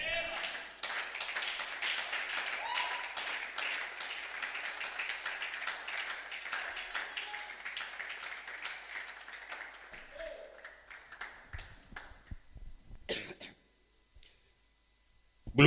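A church congregation applauds and claps through a worship service, a dense steady wash of hands that thins and fades toward the end, with a few scattered taps and voices near the close.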